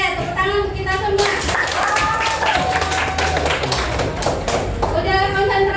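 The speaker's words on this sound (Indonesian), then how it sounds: "tepuk tangan untuk kita semua" Students in a classroom counseling session clap their hands together, steady and fairly loud, with children's voices and chatter mixed in throughout.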